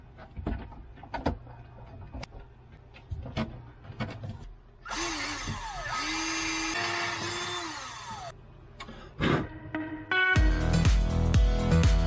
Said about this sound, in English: So now I can go ahead and finally fasten down the screws for that piece